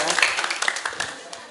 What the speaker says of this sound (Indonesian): Berikan tepuk tangan yang luar biasa